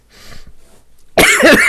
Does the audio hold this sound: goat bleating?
no